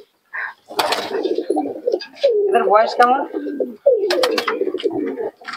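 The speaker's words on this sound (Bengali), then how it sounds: "সুজাতা নাম দিয়েছে বাজিকার কবুতর" Pigeons coo in low, throaty rolling calls close by at a pigeon market, repeating in bursts while a voice talks over them.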